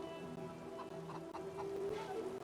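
A chicken clucks in the video game Divinity Original Sin 2, soft and brief over a steady background ambience, with a few short clucks in a loose rhythm.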